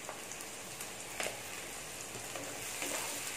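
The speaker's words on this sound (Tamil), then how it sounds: "கொஞ்சமாக உப்பு போட்டு வதக்கிக்கணும்." Onions sautéing with a little salt in a pan for a squid dry roast: a faint, steady crackling sizzle with a few light stirring taps, no voices.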